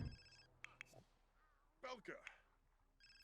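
A telephone in The Sims 4 rings in short repeated electronic trills, quiet and clear, interrupted by brief game sounds and someone speaking over it.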